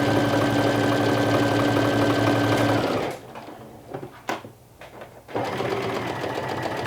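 Close and loud, a sewing machine runs a straight stitch on a Sporty Piko pocket at 3 mm stitch length and tension 3.8, humming steadily, pausing briefly amid small clicks, then starting up again.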